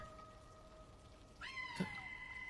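Cats meow inside a video game set in a very dark place: long, steady, thin cries run throughout, then a sharper call rises near the middle and a brief soft knock follows. No one speaks over it.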